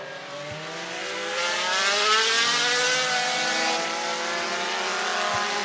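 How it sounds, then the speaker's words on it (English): A race car circling the track at I-75 Raceway in Niota, Tennessee, its engine whining in a steady high-pitched drone that rises as it passes close by, then holds loud and sustained. "The B56 car out on the racetrack."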